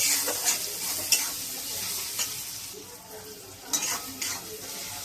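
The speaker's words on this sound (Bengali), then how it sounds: "এবারে এইগুলো খুব সুন্দরভাবে কষিয়ে নেব।" Spices and tomato stir-fried in a pan for a Bengali fish curry, a soft continuous sizzle with scraping spoon strokes and occasional clinks against the metal, close and fairly quiet with no talking.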